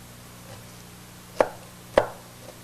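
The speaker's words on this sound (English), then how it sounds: "Just give those a good chop." A knife chops vegetables on a board in a home kitchen: two sharp, close chops about half a second apart over a faint steady hum.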